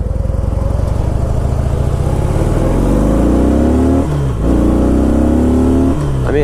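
Harley-Davidson Heritage motorcycle engine revving loud and close, rising in pitch through the gears with brief dips at shifts, a deep steady throb underneath.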